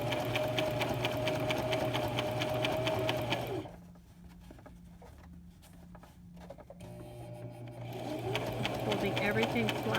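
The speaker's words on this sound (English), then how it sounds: "Now we're going to go forward and sew to the other chalk line." A sewing machine stitches a fitted face mask forward along a chalk line. It runs at a steady close-up hum, cuts out briefly partway through while the fabric is held, then starts up again.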